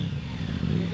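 A Triumph 900 motorcycle fitted with a Scorpion exhaust idles with a steady, bassy, close rumble, while a voice talks over it.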